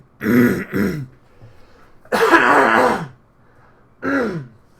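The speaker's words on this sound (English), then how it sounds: "I'll start muting the microphone when I have to cough like that." A streamer clears their throat and coughs close into the microphone in three rough, separate bursts, with quiet pauses between them.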